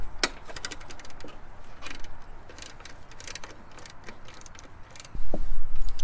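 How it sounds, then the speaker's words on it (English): A ratchet tightens the alternator bolt on a 2002-2007 Subaru Impreza, giving close, quick clicking strokes in short bursts, then a louder bump near the end. "finally tighten the alternator bolt."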